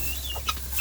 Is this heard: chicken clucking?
yes